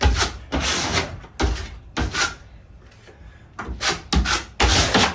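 Drywall mud is pressed and spread into cracks on a scraped plasterboard wall or ceiling patch, giving repeated loud rubbing, scraping strokes in bursts with short pauses between them, close up and with no talk.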